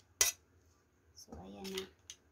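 A cooked home dish scooped onto a plate with utensils: one sharp metallic clink, then a stretch of scraping and clatter of spoon against dish, ending with a light tap.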